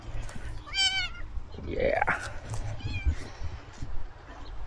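A cat meows several times close by, rising and falling calls amid outdoor background noise, with a person briefly speaking.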